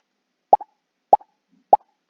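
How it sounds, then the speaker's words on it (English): Three short, crisp pop sound effects play in an even rhythm about half a second apart, each a quick hollow plop with a tiny trailing blip, separated by silence. "We're going to find the pop sound"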